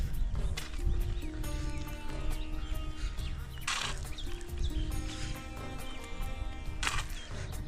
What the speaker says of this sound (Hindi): और यहाँ पे भी एक घोड़ा चल रहा है